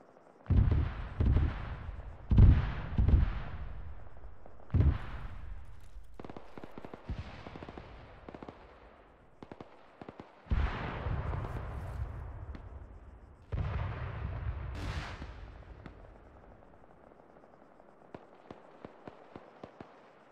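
Incoming artillery rounds explode danger close, a series of heavy deep booms with rumbling tails spread across the stretch, mixed with sharper cracks and a run of faint popping shots toward the end.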